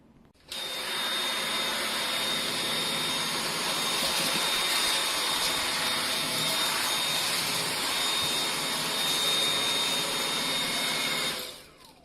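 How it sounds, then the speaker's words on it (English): Dyson V8 Absolute cordless vacuum running steadily on a carpet, a loud, constant high whine from start-up to shut-off with no talking. "just that little bit of vacuuming on the carpet picked up that much hair and dirt"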